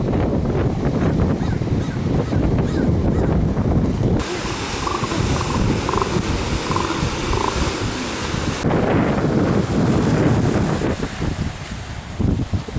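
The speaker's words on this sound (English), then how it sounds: "Really windy." Strong coastal wind buffets the microphone in a steady, loud roar with gusty surges throughout, near a beach where elephant seals gather at Cambria on the California coast.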